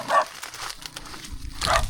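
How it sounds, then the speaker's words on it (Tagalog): Two dogs bark at close range, giving a couple of short sharp barks a moment apart with a low scuffle between them. "Sugurin ako ng 2 aso"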